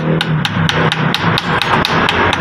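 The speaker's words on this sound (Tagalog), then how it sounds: "Subukan natin guys pukpukin ng dahan-dahan." A Hyundai i10 electric power steering motor tapped gently with a hammer, a steady series of about ten light, close metallic knocks at an even rhythm, with faint rubbing between strikes.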